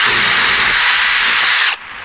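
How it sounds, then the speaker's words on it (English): A power drill fitted with a spade bit bores through an internal door, a loud continuous whine that cuts off abruptly near the end. "wait for the tip of the spade bit to come through the other side"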